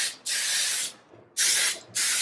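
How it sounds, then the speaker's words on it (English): Baking spray hisses from a can onto a baking pan in three sharp bursts, the first longest, with short quiet gaps between, close and loud. "I am going to spray the pan with some baking spray"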